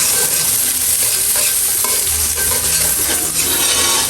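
Onions frying in a pan, a loud, dense and constant sizzle up close with faint stirring underneath, no voices.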